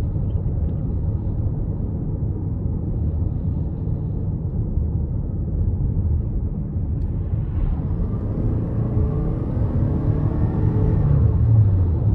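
A 2023 Toyota Crown XLE AWD with a 2.5-liter four-cylinder hybrid accelerates at half throttle in sport mode, heard from inside as a steady low engine and road rumble that swells and rises in pitch toward the end.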